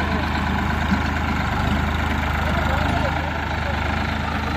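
A Ford 3600 tractor fitted with an ADI engine and a dual-clutch system idles with a steady, even low rumble throughout, while voices talk nearby.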